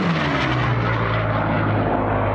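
Racing propeller plane Voodoo roars past in a low-level, high-speed record pass over a ranch south of Challis, Idaho, a loud sustained engine drone with a steady low throb filling the whole moment.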